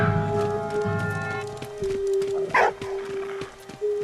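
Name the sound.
dog barking in the video game Valiant Hearts: The Great War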